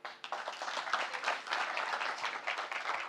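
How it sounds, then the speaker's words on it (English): Conference audience applauding after a technical presentation on scaling carbon markets in Africa, a steady, fairly soft patter of many hands heard from a distance across the room. "Can you give him another round of applause, please?"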